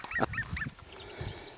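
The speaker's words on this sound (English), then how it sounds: "sorry about the bird noises, which is annoying some people, but these curlews are saying, this is my field, go away" Curlews calling over an open field, a few short, sharp bubbling cries in quick succession, moderately near, with low wind-like rumble beneath.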